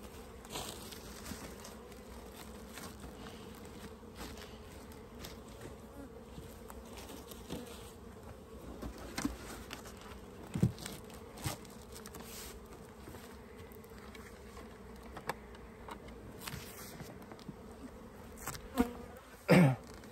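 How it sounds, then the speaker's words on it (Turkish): Honey bees buzz steadily around a hive in spring, young bees on orientation flights, a soft constant drone with occasional louder passes as individual bees fly close. "Çıkan arılar da antrenman uçuşundalar."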